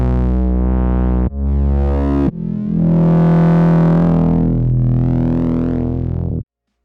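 A mono synth on CorOS with a doubler for extra width plays a few long, buzzy, distorted notes that change pitch between held tones. It is loud and alone, and stops abruptly.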